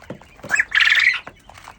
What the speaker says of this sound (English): There's about 100 quail girls in here.